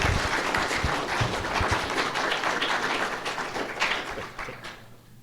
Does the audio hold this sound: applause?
yes